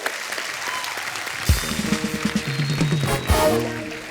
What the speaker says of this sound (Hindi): इसके लिए जोरदार तालियां अनुभव